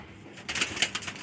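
A fancy pigeon kept by a record-holding pigeon fancier gives a short, soft burst of cooing up close after a moment of near silence.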